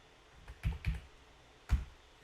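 A few soft, close computer keyboard keystrokes come in short clusters while a command is typed into Leica Map 360 software, quiet clicks with pauses between them.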